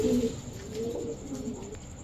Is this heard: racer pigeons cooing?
yes